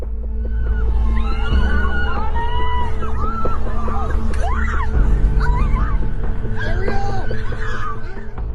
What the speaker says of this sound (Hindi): इस वीडियो फुटेज में इंसानों की चीखें भी सुनाई दे रही थी